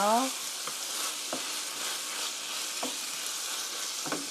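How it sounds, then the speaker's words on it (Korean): Stir-fried pork with kimchi and sesame oil is stirred in a hot pan, a steady sizzle running throughout with several sharp scraping strokes of the spatula at regular intervals, close and fairly loud. "자 참기름이 고루 가게 섞어 주시고요"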